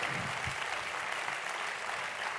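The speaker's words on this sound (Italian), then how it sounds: "lo accogliamo con un applauso? Un applausone!" An audience at a film festival applauds to welcome a guest. The clapping is dense and sustained, with the whole crowd keeping it steady throughout.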